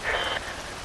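Rain falls during a Metal Gear Rising: Revengeance cutscene, a steady hiss of downpour under a brief high tonal sound that fades after a moment, leaving the soft rain alone.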